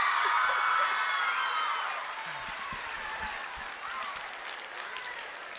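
An audience at a keynote speech breaks into applause, dense clapping that is loudest at the start and then thins to a softer, scattered patter.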